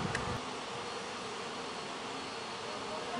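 Honey bees buzz steadily at a split hive, a dense, continuous drone close by with no pauses, heard alone without talk.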